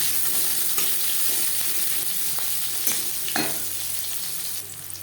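Sliced onion and whole cumin sizzle steadily in a hot pan, a continuous close frying hiss with a few brief scraping stirs near the end.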